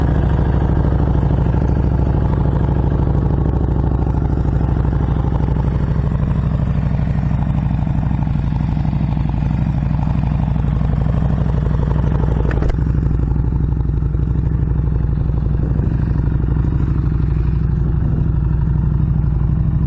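A 2019 Harley-Davidson Street Rod on a demo ride, its engine running steadily with a deep, continuous low rumble and some rushing wind noise, with a brief clatter near the end and no speech.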